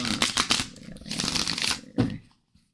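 Tarot cards are shuffled by hand close to the microphone in a run of crisp riffling and flapping bursts, which fade to quiet near the end.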